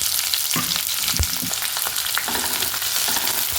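Onion hits hot coconut oil with cloves and a piece of cinnamon, producing a loud, dense, crackling sizzle up close with a few soft stirring knocks.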